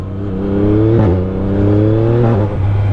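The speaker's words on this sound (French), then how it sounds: "Le shifter, il est incroyable. Ça fait un bruit d'avion de chasse. Dès que je passe un rapport." A 2023 Yamaha MT-09 SP motorcycle revs hard and close, its engine drone dipping briefly at two quickshifter gear changes before climbing again. No voices.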